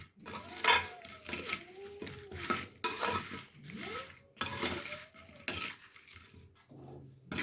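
Utensils clink and scrape in a bowl as mango pickle ingredients are mixed by hand, with irregular stirring knocks and clatters, near and moderately loud, no voice.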